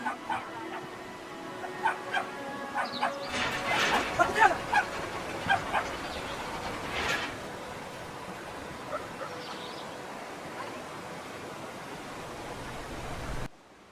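A dog barks and yips in a handful of sharp, fairly close bursts in the first half, then quiets to a few fainter whimpers and yaps over a low background hiss.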